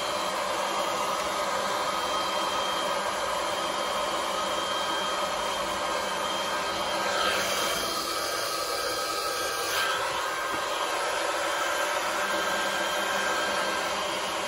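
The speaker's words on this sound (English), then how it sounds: "This is kind of overkill with this heat gun that I've got" A heat gun warms RV cabinet trim, its steady, loud blowing roar running unbroken and close for the whole stretch, with no voices.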